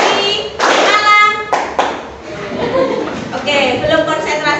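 Classroom students clapping in a teacher-led clap game, a few bursts of tapping and claps in short groups, mixed with chatter and light laughter in a lively room.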